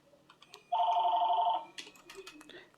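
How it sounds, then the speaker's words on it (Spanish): A telephone rings with a steady electronic trill lasting under a second, loud against quiet background, while someone talks before and after it during a lesson. "está sonando mi teléfono, pero ahorita contesta alguien"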